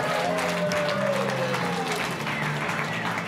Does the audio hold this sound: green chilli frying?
no